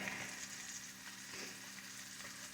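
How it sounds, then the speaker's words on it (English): Top cap sirloin steak sears in a cast iron pan with a steady, loud, close sizzle and crackle that holds evenly for the whole stretch with no voices. "I'm going to flip it so I can sear the seasoning on this side"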